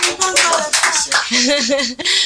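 Audience applause on a French-language TV quiz show, steady clapping from a crowd heard throughout while a person speaks over it.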